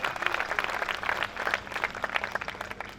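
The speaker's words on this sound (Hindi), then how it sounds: "अनिल चौबे के लिए जोरदार तालियां बजाओ" An audience at a Hindi comic poetry gathering claps steadily for poet Anil Choubey, a dense, continuous burst of applause from many hands filling the hall without talk.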